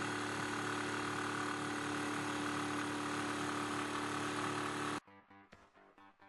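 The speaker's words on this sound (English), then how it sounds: "For cutting, I use my Makita jigsaw with a saw blade for metal." A Makita jigsaw fitted with a metal-cutting blade saws steadily in a small boat workshop, giving a loud, continuous buzzing drone that cuts off abruptly near the end and leaves a few faint knocks.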